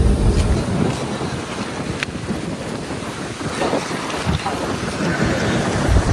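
Wind off the Red Sea shore at Jeddah rumbles across the microphone in steady loud gusts, with faint waves and distant activity underneath.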